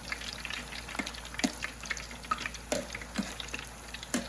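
Onion rings, thick-cut, frying in hot oil, a steady low sizzle broken by scattered pops and crackles that flare every second or so, close by with no talk.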